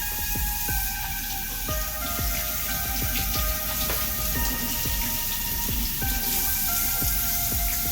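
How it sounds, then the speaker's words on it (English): Running water splashing steadily as milk is rinsed off pieces of flathead catfish, a continuous close patter with irregular drips and small clatters throughout, no talking. "take this catfish up out of here and rinse off the milk"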